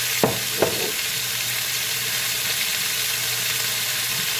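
Beef strips for pepper steak seasoned with salt, pepper, soy and Worcestershire browning in a pan, a steady loud sizzle throughout after a couple of sharp knocks at the start.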